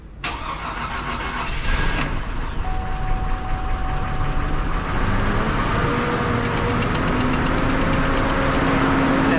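A 2002 Chevy Trailblazer engine, freshly installed, cranks with a starter whir for about two seconds, then catches and settles into a steady, loud idle that continues to the end, with a faint whine rising over the running engine.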